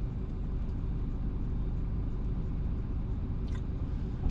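A car idles at a traffic light in a town centre in the morning, giving a low, steady engine rumble with faint traffic behind it.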